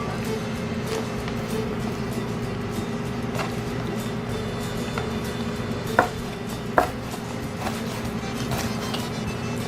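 A knife slices gristly meat against the grain for Cajun gumbo, with steady close cutting and a couple of sharper knocks on the board, all heard alone.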